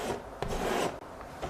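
Paint being scraped across an oil painting canvas, a continuous close rasping scrape broken by a brief pause, loud and dry, with no voice.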